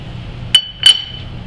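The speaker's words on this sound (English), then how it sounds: "I hope you can hear me over the jingling of the metal." Metal T-nut and lathe fixture parts for a Rockford lathe drill fixture jingle in two short, bright, close clinks about a third of a second apart, over a low background hum.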